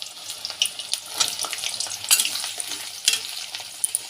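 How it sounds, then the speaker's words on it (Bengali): Onions hitting hot oil already fried with whole garam masala, cardamom and split dried red chilli, a close, continuous sizzle with stirring scrapes and occasional louder spattering bursts. "আমি এবার কিছুটা পরিমাণ মতন পেঁয়াজ দিয়ে দিলাম।"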